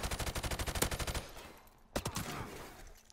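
G36 rifle gunfire in the video game Modern Warfare Remastered: a rapid automatic burst of about a dozen close shots, a pause, then a few more quick shots.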